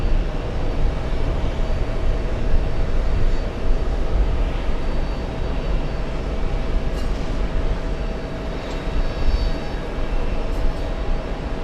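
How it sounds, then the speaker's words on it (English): An American Airlines airliner bound for Heathrow rumbles steadily from JFK, a broad, sustained jet roar at moderate distance with no talk. "We have the American Airlines flying to Heathrow"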